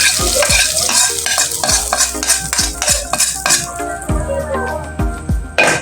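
Fried pork goes into a small pan of sautéed mung beans and is mixed in, with loud rhythmic scraping and clanking of a utensil against the pan over a steady sizzle.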